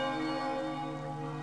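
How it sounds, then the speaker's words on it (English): A steady, sustained bell tone rings with a rich, even hum throughout in the video game Final Fantasy Fables: Chocobo's Dungeon, with no voices over it. "apparently the bell targets individuals"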